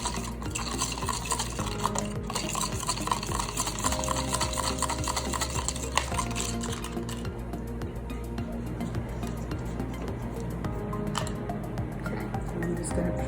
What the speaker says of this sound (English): I'm going to mix it up to make just a really thin wash to go over it.